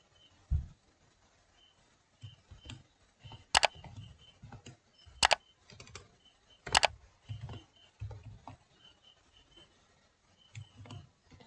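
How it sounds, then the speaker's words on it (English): Keys on a computer keyboard are tapped in an irregular sequence of soft clicks with a few sharper clacks, close and quiet, no voices. "So here I will enter my password."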